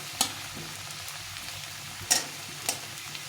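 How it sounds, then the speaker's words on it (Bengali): Potatoes frying in a pan over a high flame give a soft, steady sizzle, with a few sharp clicks and scrapes from stirring. "একটু হাই ফ্লেমে ভেজে নিলাম"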